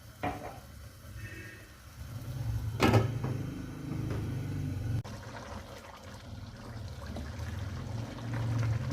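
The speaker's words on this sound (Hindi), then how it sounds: "जी पक रहा है अब हमारा कीमा।" Minced keema simmering in water in a cooking pot, a soft bubbling and sizzling bed with a brief clatter near the start and low kitchen rumble throughout, no talk.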